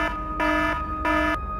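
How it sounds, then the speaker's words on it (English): An emergency exit door alarm sounds as a loud, piercing electronic tone, pulsing on and off in long, regular bursts with no voices. "I slammed through a door marked "Emergency Exit." The alarm screamed."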